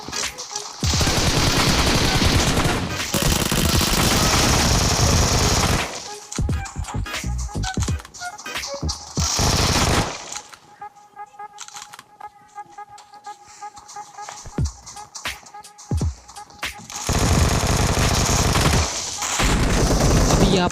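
Vector fitted with an extended mag fires in PUBG Mobile: long loud bursts of rapid automatic gunfire at the start and end, with quieter stretches of sparse shots and game clatter in the middle.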